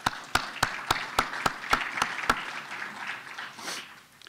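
At a space and satellite communications briefing, a run of about eight sharp, evenly spaced hand claps rings out close by, then gives way to softer, scattered clapping that fades away.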